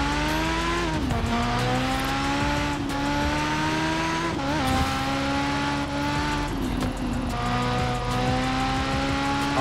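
Engine revving and accelerating hard through the gears in Forza Horizon 4, driven with a steering wheel, loud and continuous with rising pitch sweeps at each shift and faint tire noise.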